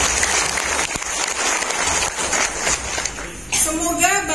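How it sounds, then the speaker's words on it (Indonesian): A crowd applauds the regional bank Bank Jateng at an outdoor aid handover ceremony for poor households' homes in Sragen, with sustained, loud, even clapping throughout and a brief shuffle and murmur near the end. "Tepuk tangan buat Bang Jateng."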